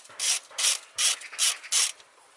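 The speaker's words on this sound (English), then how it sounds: "Then I open these bolts" A ratchet loosens engine bolts on a Toyota car, five quick bursts of clicking pawl at an even rhythm, close and crisp with short pauses between strokes.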